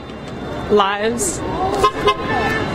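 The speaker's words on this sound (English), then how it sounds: "We've had a lot of honking of support going by." Passing cars honk their horns in support of a trans visibility street rally in Minneapolis, with short, loud toots rising over crowd chatter and nearby talking.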